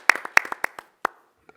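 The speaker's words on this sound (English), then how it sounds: "Can we give them a round of applause?" A city commission meeting audience claps for city staff in a short burst of sharp handclaps, a few loud claps spaced out and tapering off to scattered single claps, with no talking.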